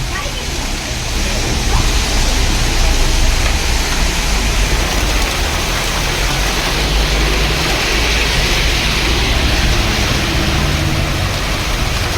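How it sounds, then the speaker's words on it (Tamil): Floodwater from heavy rain rushing as a flash torrent over its banks at Jarugumalai near Salem, a loud, steady broadband roar of churning water that holds constant throughout, with no clear voices above it. "பெய்த கனமழையின் காரணமாக ஜருகுமலையில் மழைநீர் காட்டாற்று வெள்ளமாக கரை திரண்டு ஓடுகிறது"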